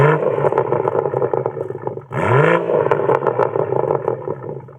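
A BMW M140i fitted with a Remus catback exhaust that keeps the stock BMW valve revs up close, a rising engine tone swelling midway over a rumbling idle with slight clatter.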